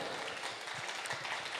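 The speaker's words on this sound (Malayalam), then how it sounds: "നല്ലൊരു കൈയടി കൊടുക്കാം നമുക്ക്." Audience applause at a couples day celebration in a church hall, a steady wash of hand clapping heard at moderate distance with no voices over it.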